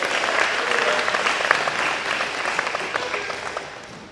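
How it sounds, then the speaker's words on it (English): Audience at a university hall of fame ceremony gives a steady round of applause for a past award recipient, a dense wash of clapping close and even throughout. "We give her a round of applause."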